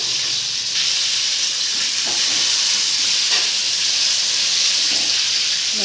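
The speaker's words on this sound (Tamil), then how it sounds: "ரெண்டாவது வாட்டியும் பொரிச்சு எடுக்கணும்" Apple crisp pieces fry a second time in hot oil, giving a loud, steady sizzle and hiss close by, with a few soft stirring knocks.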